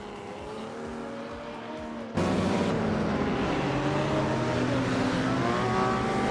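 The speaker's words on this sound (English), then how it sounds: "Crazy Fingerson is driving a 1966 Shelby GT 350." A 1966 Shelby GT 350 racing in a video game, its engine droning steadily with shifting tones from surrounding race cars, which jumps abruptly louder partway through and stays loud.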